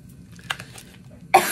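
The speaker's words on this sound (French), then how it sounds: "Toujours cette vilaine toux." A single sharp cough bursts out at the very end after a quiet stretch of faint rustling, close and loud, from someone with a lingering cough.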